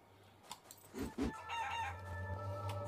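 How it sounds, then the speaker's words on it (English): Chickens in the farming RPG game Hardland cluck and squawk in a few short bursts, followed by a faint, drawn-out rooster crow over a low steady hum, all fairly quiet. "Those chickens are going mental for that hay."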